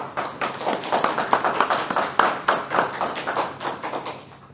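Applause for a professor from a lecture audience, a dense steady patter of many hands clapping for several seconds, close and fairly loud, fading slightly at the end.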